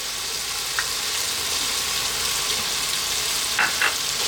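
Tomato paste sizzles with softened tomatoes in a hot pan for chicken kabsa, a steady close frying hiss with a couple of light clinks from stirring.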